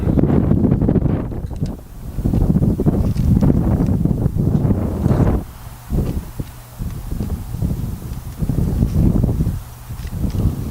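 Strong wind gusts across an open outdoor soccer field during a high school boys' match, a loud steady roaring buffet on the microphone that rises and falls in long surges, with faint footfalls and distant activity beneath.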